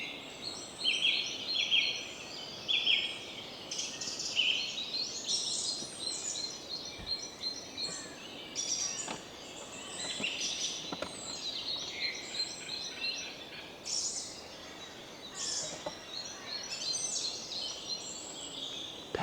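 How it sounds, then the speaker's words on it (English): Birds sing and chirp steadily outdoors, overlapping high calls running throughout against quiet background noise. "whilst you're listening to the birds."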